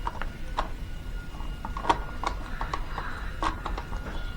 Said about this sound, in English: we're going to go ahead and unscrew them out of their screw terminals